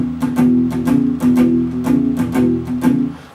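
Blues rhythm riff on guitar played with palm muting, a steady chugging pattern of dampened, crunchy repeated notes close up and alone, with regular accented strums.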